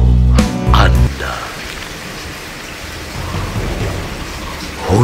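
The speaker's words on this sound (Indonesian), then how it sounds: "Hujan rintik-rintik turun membasahi bumi" Steady rain with a rumble of thunder, a loud low-end burst at the start fading into continuous even rainfall that holds to the end.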